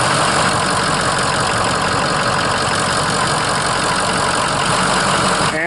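A Ford 6.0 Powerstroke diesel engine idles continuously close by, a steady loud clattering rumble with no pauses.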